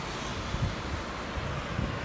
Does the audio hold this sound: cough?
no